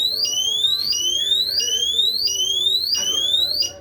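A motion detector security alarm sounds loud and near, repeating a rising electronic whoop about every 0.7 seconds, five cycles in a row, alone without speech.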